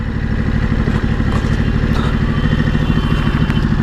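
A Ducati Multistrada 950 motorcycle engine runs close by on arrival, a loud continuous throbbing rumble with a rapid low pulse and faint clatter, steady throughout with no talk.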